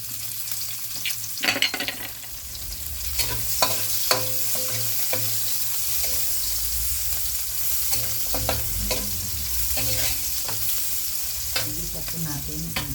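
Onions sauté in a pan for ginataang gulay with papaya, giving a constant close sizzle broken by frequent scraping and clacking stirs of a utensil against the pan.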